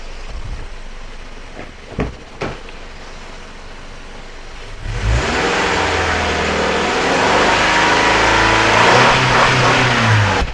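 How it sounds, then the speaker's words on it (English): Car engine revved hard from quiet idle clicks up to the rev limiter, a sudden loud sustained roar with rising and bouncing pitch that holds near the limit for several seconds, close and alone. "activated the rev limiter there"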